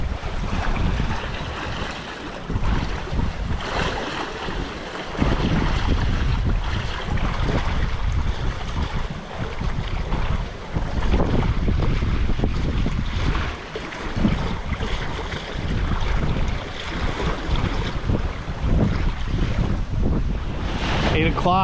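Steady rush of wind buffeting the microphone on a sailboat under sail, with waves slapping and hissing against the hull, continuous and loud throughout.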